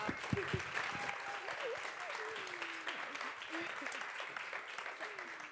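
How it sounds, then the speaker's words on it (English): An audience at an International Women's Day celebration gives students a steady round of applause, fairly faint and continuous, with a voice talking over the clapping. "can we please give them a round of applause for the talent of the future?"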